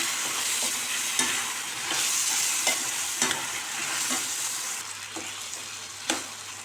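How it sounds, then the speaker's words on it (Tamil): Native brinjal pieces fry in oil with softened tomato and get stirred for a Tamil tamarind kuzhambu, with a steady close sizzle cut by repeated scraping strokes of the spoon against the pan. "நம்ம கத்திரிக்காயும் இதில் சேர்த்து நல்லா வதக்கிக்கலாம்"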